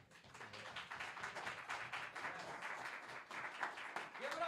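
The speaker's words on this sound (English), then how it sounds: "Big round of applause for that." Audience applause for a poet at a Nuyorican Poets Cafe open mic at Loisaida Center, a soft, fairly distant crowd clapping that builds and continues for several seconds with a few voices mixed in.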